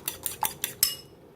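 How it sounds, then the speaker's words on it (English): Utensil clinking against a bowl as two large eggs are mixed, five quick bright taps in a row, close and clear, then quiet. "You're gonna mix up 2 large eggs"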